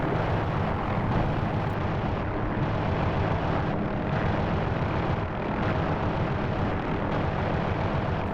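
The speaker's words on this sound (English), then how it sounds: "Getting absolutely peppered with shots" Dense, continuous barrage of video-game gunfire pelting the player, with explosive rumbling and booming layered throughout, loud and sustained without pause.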